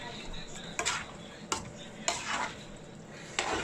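Spoon stirring pork dinuguan seasoned with tamarind powder in a pot, a few sharp scraping clinks at irregular intervals over a faint low sizzle, close and fairly quiet.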